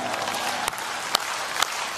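Audience applause at a live comedy stage show in Vietnam, a dense continuous patter of clapping with a few sharper claps standing out, fairly close and loud.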